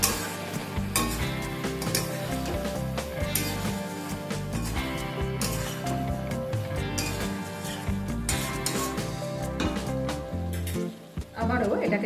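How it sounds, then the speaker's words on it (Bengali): A pan of mixed vegetable curry with jackfruit seeds, pumpkin and garam masala sizzles steadily while it is stirred, with scraping and clinks of the spoon against the pan throughout. "একবার সমস্ত কিছু মিশিয়ে নেব।"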